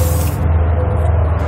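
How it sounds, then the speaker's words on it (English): General purpose lubricant sprayed from an aerosol can between the coil spring and the spring cup of a 2019 vehicle's suspension, a loud continuous hiss that eases after the first moments but keeps going throughout. "I'm going to take some general purpose lubricant here. I'm just going to try to spray it in between the cup and the spring there"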